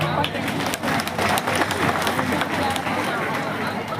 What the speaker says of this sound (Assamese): তাৰ কাৰণে আপোনালোকে এবাৰ তালিটো মাৰক।